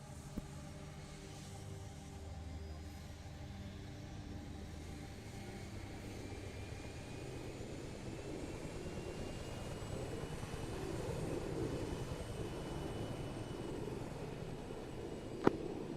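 Aircraft in a military video game rolling for takeoff, a steady low engine roar that slowly builds over the stretch, fairly faint and without speech, with a sharp click near the end.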